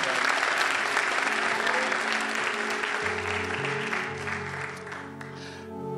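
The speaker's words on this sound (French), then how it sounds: "Une autre bonne main d'applaudissement." A church congregation applauds during a service with dense, sustained clapping that thins slightly toward the end, while a low voice enters partway through.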